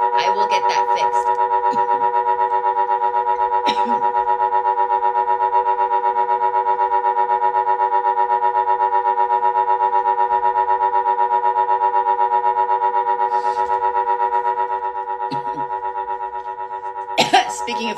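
A sustained electronic vagus nerve frequency tone plays live as a dense stack of steady harmonic pitches, loud and unbroken for most of the span, with brief bursts of other noise near the start and end.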